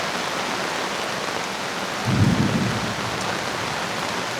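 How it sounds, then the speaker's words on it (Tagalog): Heavy rain pours steadily on a mountain campsite near Baguio in a dense, constant hiss, with a brief low swell midway that may be distant thunder. "sobrang lakas ng ulan"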